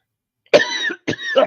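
Two loud, close coughs, the first harsh and sustained, the second following after a brief pause, with no talking.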